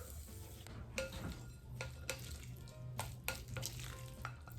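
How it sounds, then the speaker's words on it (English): Charred corn being stirred into a mayo dressing in a bowl for an elote salad, giving repeated soft clinks and scraping strokes of a utensil against the bowl over a low steady background hum. "I've got my dressing in here, my charred corn here, so let's mix them together"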